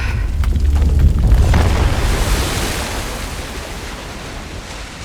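A loud surge of rushing, released water in Uncharted: The Lost Legacy, set in the Western Ghats, with a heavy low roar at first that eases into a steadier broadband wash, and no talk.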